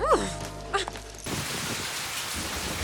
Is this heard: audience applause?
no